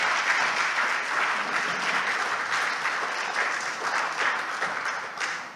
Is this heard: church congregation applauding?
yes